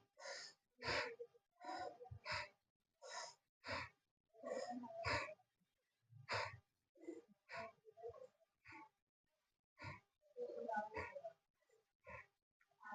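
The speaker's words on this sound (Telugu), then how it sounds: "ఇట్లా ముడిచేటప్పుడు ఊపిరి తీసుకోవాలి, ఇట్లా వదిలేటప్పుడు ఊపిరి వదిలేసాను" Yoga breathing exercise in a class for students, with breath drawn in while the fists clench and pushed out on release: close, forceful inhales and exhales repeat in a quick, uneven rhythm separated by short silences.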